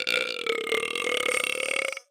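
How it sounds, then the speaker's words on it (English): A long, loud, continuous burp with a croaking, voiced texture, held steadily for about two seconds before cutting off abruptly, close and alone with no talking. "You guys get to see the burps on video now."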